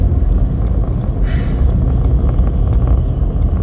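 An Audi car passes on a road, a steady loud low rumble of engine and tyres holding close throughout, with no voices over it.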